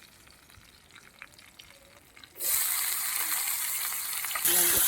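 Onion dropped into hot mustard oil already seasoned with black cumin and green chillies for a katla fish curry, bursting into a loud, steady frying sizzle partway through after a quiet start with brief talk.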